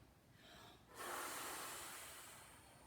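A single sharp inhale through the nose during a Pilates reformer exercise, close and fairly loud, as a breathy rush that starts about a third of the way in and tapers slowly. No talking.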